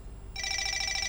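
A phone rings with a bright electronic trill that starts partway through and continues steadily, fairly close, over a low background hum.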